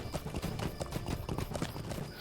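Horse hooves trotting in the LOTRO video game, a quick, steady clip-clop rhythm of many close, fairly loud hoof strikes heard alone without talk.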